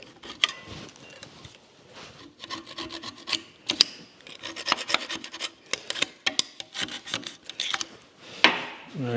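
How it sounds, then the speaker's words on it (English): A rag wipes excess silicone lubricant off a door part during an International Scout restoration, making rapid, close rubbing strokes in uneven bursts, with no voices. "I'm just going to mop up all the excess silicone lubricant that's all over the place."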